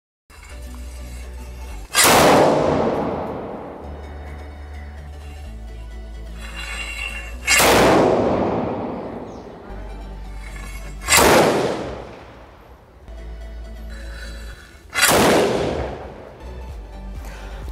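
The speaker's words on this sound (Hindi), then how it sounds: "हमने पोटास गन को चलाया और चलाकर भी आपको भी दिखाया" A homemade potash gun fires four times, each a sharp, loud bang with a decaying boom, spaced a few seconds apart outdoors, with low rumbling between the shots.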